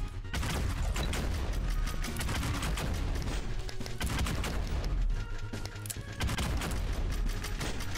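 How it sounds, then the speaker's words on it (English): Machine gun fire in the video game Vampire Hunters, dense rapid bursts of loud automatic shots with booming impacts, nearly continuous with brief gaps, up close and without talk. "Yeah, I don't like the machine gun."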